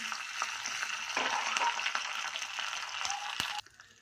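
Cumin, pepper, dried chilli and curry leaves crackle and sizzle in hot oil for a tempering, a dense close frying hiss with small pops that drops off sharply near the end.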